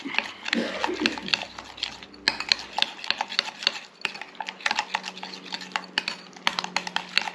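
Homemade Big Mac sauce is stirred in a bowl with a utensil, giving repeated scraping and clinking taps of fairly close, irregular rhythm, with a voice heard briefly near the start.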